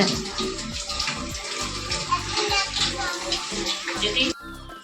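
Water pouring steadily from a tap into a container at home, a loud, close gushing stream that stops abruptly near the end, with people talking underneath.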